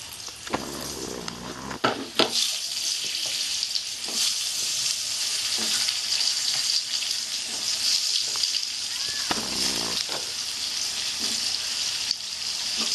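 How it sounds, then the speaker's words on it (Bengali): Potatoes with turmeric fry in a wok, a continuous soft sizzle with occasional stirring scrapes and knocks over thirteen seconds, close and fairly quiet. "আলুগুলো একটু লাল লাল করে ভেজে নেবো আমি"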